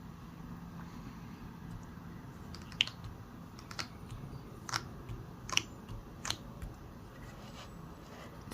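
Faint, sticky crackling and peeling clicks as a sticky cutting mat pulls off a hand, a few sharp pops in quick succession, over a quiet background hiss.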